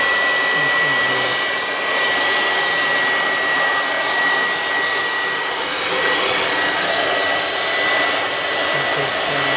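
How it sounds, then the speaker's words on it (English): A blower machine blasts air steadily into an air conditioner outdoor unit during a high-pressure service, a loud, close, continuous rushing roar with a faint high whine, and no talk. "Using blower."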